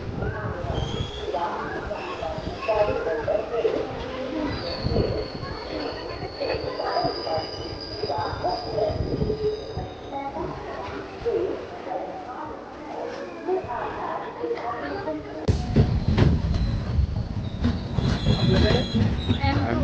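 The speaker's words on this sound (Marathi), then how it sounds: "जस्ट ट्रेन आलेली आहे" A train pulls into Khed station, its wheels squealing and rumbling with a rattling metallic clatter that swells louder near the end, while people talk nearby on the platform.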